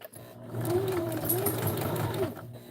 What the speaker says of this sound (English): you need to be sewing with your zipper foot too